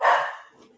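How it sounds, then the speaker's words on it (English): One loud dog bark sounds close by, a single sharp burst that rings out and fades over a fraction of a second. "Because they hear other dogs barking"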